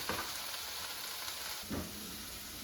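Vegetables for a ground beef stir fry frying in a pan, a steady soft sizzle with two brief bursts of stirring, fairly quiet and alone.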